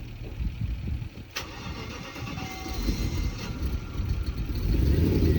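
A BMW E38 cranks and catches after refuelling with petrol at a gas station, the engine building to a steady, growing idle rumble, close by with no talking.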